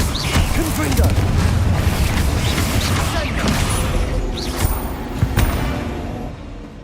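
A Confringo fire spell explodes in the Hogwarts Legacy video game, a loud rumbling burst that trails into crackling debris and a few later impacts, with a voice speaking over the blasts.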